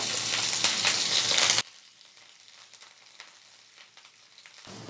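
Curry leaves dropped into hot oil burst into a loud crackling sizzle for under two seconds, then the frying settles to a quieter, low bubbling hiss.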